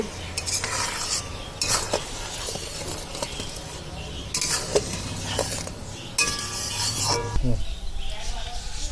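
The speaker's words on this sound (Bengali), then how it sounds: "গুড়টা আমার জাল হয়ে গেছে, এর মধ্যে আমি কুলগুলো দিয়ে দিচ্ছি" Dried jujubes are stirred into boiling jaggery, with repeated metal spoon scrapes and clinks against the pot over a low bubbling sizzle, close and rhythmic, coming in several bursts with pauses.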